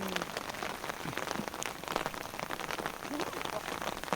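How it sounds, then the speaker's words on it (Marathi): Heavy monsoon rain pours down outdoors during crab catching, a continuous dense patter of drops hitting surfaces at moderate level, with no speech heard. "पाऊस पण भरमसाठ पडायला लागला"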